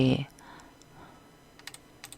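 Computer keyboard keys tapped for a shortcut during an Adobe Illustrator exercise, a few light, sparse clicks near the end, close and soft, after a brief burst of speech at the start.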